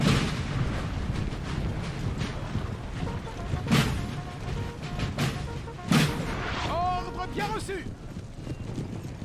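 Artillery booms sound during a battle in Napoleon Total War, with several dull thuds spread across the clip beneath a busy wash of battlefield noise. Speech runs underneath throughout.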